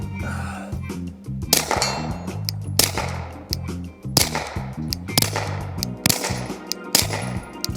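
A PSA Dagger pistol fitted with a suppressor fires a rapid string of sharp shots in irregular clusters, close and loud, with ringing metallic tones between them.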